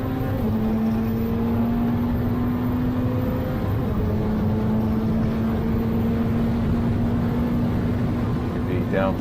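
Ferrari Challenge race car engine droning loud and steady as it accelerates on the Road America track, pitch climbing slowly from inside the car, with a rising whine at the very end.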